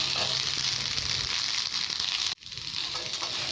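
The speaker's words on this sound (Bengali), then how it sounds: "তেলটা খুব ভালোভাবে গরম হয়ে যাওয়ার পর আমি এখানে কড়াইশুঁটিগুলোকে দিয়ে দিচ্ছি।" Green peas fry in very hot oil in a wok with a dense, steady hiss up close. It drops out abruptly for a moment, then resumes.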